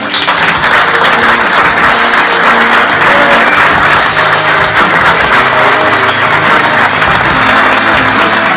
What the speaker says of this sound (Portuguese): eu fiz uma grande salva de palmas para ele